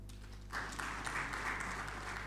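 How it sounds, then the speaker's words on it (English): An audience at an engineering institution's presidential address applauds, the clapping starting abruptly and continuing moderately over a steady low hum from the hall's sound system. "She deserves an applause."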